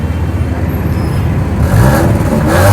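Honda Civic engine running up close, a steady mid-pitched hum that swells slightly louder partway through, as if lightly revved, with no talking.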